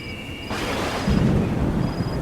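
Heavy rain falls with rumbling thunder as a sound effect in a spoken ghost story, with a steady wash of rain and a deep, loud thunder roll building up midway.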